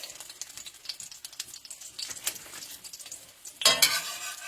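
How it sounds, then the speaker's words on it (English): Fried eggplant lifted out of hot frying oil, a crackling sizzle with light utensil clinks, growing into a sudden louder burst of spattering near the end, no talk. "I'm going to take out the remainder of my eggplant, fried eggplant"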